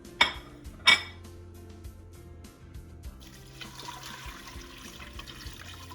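Two sharp clanks of a pot on a stove, then a rising rush of water being poured into the pot of onions for chicken and bow ties, close and moderately loud with a low hum beneath.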